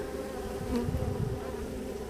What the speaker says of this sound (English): There's a bee that just stung my glove.